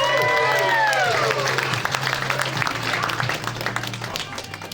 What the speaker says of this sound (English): start clapping out for Dr. Greg Matthews, everybody